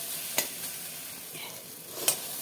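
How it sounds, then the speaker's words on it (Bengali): Scrambled egg bhujiya being stirred in a frying pan, a soft low sizzle with two sharp spatula scrapes against the pan, quiet and brief. "আমি নাড়িয়ে একটু ঝরঝরে করব, ডিমের কাঁচা ভাবটা যেন চলে যায়।"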